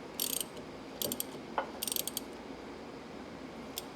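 A ratchet wrench loosening a bolt on the steering gear of a Jeep TJ, giving several short bursts of quick clicking spread across a few seconds, close and fairly faint, with no talk over it.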